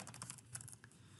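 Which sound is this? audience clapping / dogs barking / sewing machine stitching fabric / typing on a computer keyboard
typing on a computer keyboard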